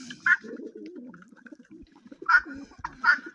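Soft, throaty cooing from pigeons repeats in low bursts, fairly close, with a few sharper chirps and light rustling in between.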